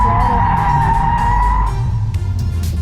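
A twin turbo Callaway Corvette drifts with a loud, close, sustained tire squeal over a deep engine roar that rises as it revs.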